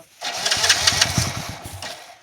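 A motorbike engine struggling to start, sputtering into a rough, uneven chug with irregular knocks for about two seconds before dying away; close and loud with no talk.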